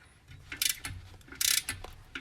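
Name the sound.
torque wrench ratcheting while torquing new clutch bolts on BMW E46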